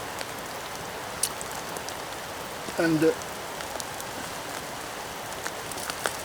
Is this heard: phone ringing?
no